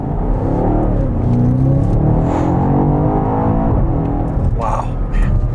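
A 2020 BMW X5M Competition, a 600-horsepower SUV, revs hard under acceleration in a loud, sustained engine roar with rising harmonics, heard from inside the cabin and steady throughout.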